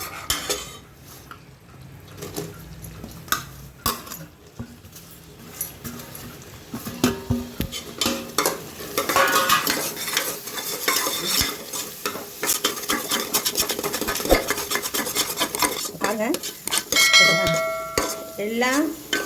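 A spoon stirs grated coconut through thick sugar syrup in a metal pan while making coconut burfi. Scraping and clinks start quietly, then build into busy, sizzling stirring with sharp metallic taps near the end.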